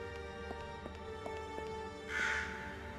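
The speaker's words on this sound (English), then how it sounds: "Raven?" In the video game Lost Horizon 2, a raven caws once near the end, a brief raspy call over a steady musical background with soft rhythmic ticks.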